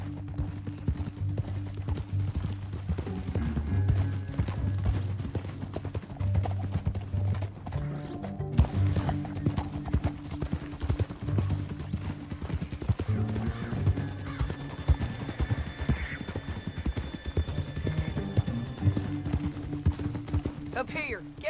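Horses trot with steady clip-clopping hooves in Red Dead Redemption 2, one neighing along the way, beneath background music and occasional talking.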